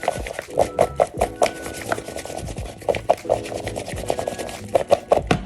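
Raw chicken pieces tossed and mixed by hand in a bowl to coat them with kosher salt, giving close, wet rubbing and slapping sounds in an uneven rhythm with no talk.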